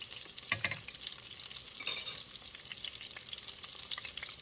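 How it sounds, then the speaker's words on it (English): Chicken browning in a frying pan over medium-high heat makes a steady, fairly quiet sizzle, broken by a few sharp scrapes and clatters of a utensil near the start, with no voices. "You don't want to cook it all the way in the pan, you just want to brown it."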